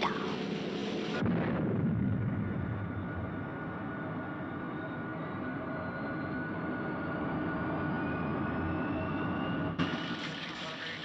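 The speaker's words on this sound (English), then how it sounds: "It's a Harmy helicopter, m'lady." An army helicopter from a Thunderbirds film flies past with a broad, steady engine and rotor roar. It starts and ends abruptly, with a small thump near the end and no talk.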